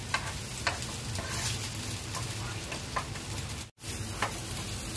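Bread and onion toast fries in oil in a pan, a steady close sizzle with scattered light scraping ticks and one brief drop-out near the end.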